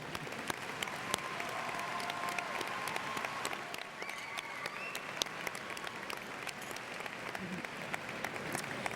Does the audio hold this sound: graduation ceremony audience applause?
yes